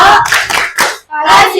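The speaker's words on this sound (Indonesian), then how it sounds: "Tepuk apresiasi" Class of seventh-grade students clapping hands in unison in a school classroom, a few quick bursts of claps with a short pause between, loud and close.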